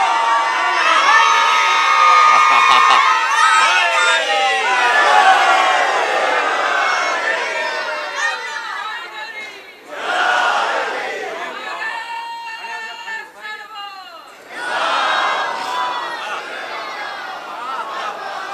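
Children and a crowd at a majlis shout slogans together, loud and close, in sustained waves of chanting and cheering with short breaks between bursts.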